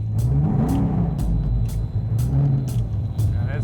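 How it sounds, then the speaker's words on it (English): A Camaro race car engine idles loud and close with a deep, lumpy rumble, its pitch rising and falling with repeated revs and sharp burbling pulses throughout. "I was kind of anxious to get the car out yesterday and start it"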